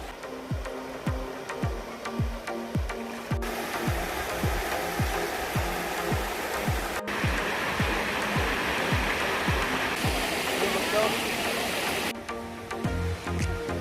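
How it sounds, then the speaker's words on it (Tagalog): Eva Falls, a waterfall in DRT, Bulacan, roars as a steady, dense rush of falling water, loud and continuous throughout, with irregular footsteps or thumps underneath near the start. "Nakikita na namin yung Talon ni Eva."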